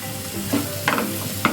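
Tomato, onion, garlic and ginger fry over a low gas flame, a steady sizzle broken by several scraping stirs of the pan, close and alone without voices.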